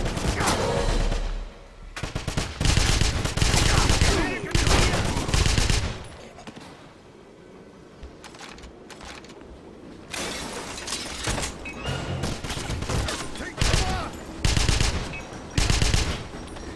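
Gunfire in the video game Wolfenstein (2009): loud, dense bursts of automatic shots and shattering impacts come in heavy volleys, break off briefly, then resume in repeated clusters.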